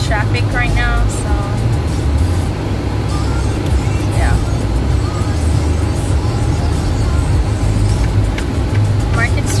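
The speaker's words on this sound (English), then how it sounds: "we're actually in traffic right now" Heavy road traffic on Market Street in St Elizabeth: a constant loud, low rumble of car and bus engines from a vehicle stuck in traffic, with people talking over it.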